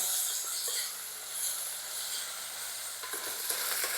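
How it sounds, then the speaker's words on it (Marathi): Finely chopped onion frying on a high flame, a continuous soft sizzle with occasional stirring scrapes, fairly quiet and close, with no one speaking. "गॅस फास्ट करून सुरुवातीला आपल्याला कांदा चांगलासा नरम करून घ्यायचा आहे"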